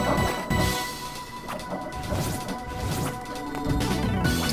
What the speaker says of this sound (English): If you hear some glass moving in the background, that is my hamster, who has decided that now is the time to move everything in our cage.